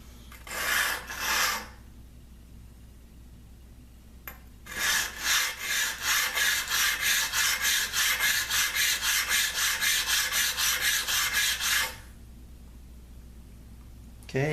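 A tuned-up spokeshave shaves the edge of a piece of wood in rhythmic rasping strokes, two slow passes and then a long even run of about fourteen quicker strokes, close and clear with no talking.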